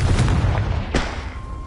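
Confringo blasting spell from Hogwarts Legacy going off: a muffled boom followed by a second sharp burst about a second later, over low rumbling game ambience.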